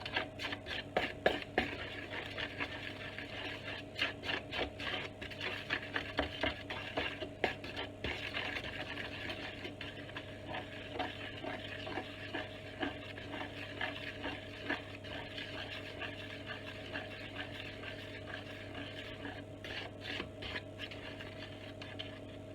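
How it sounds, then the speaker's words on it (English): A spoon stirs brownie dry ingredients together in a bowl, giving a steady run of light scraping and clinking strokes at close range, with no talk. "I'm going to use a spoon for this. So you just want to mix them together."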